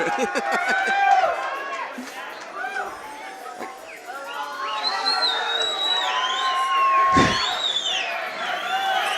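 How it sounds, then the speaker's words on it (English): Crowd at an amateur boxing event cheering and shouting, with whistles and excited voices rising and falling, loud and lively throughout. "Crowd is hyped up."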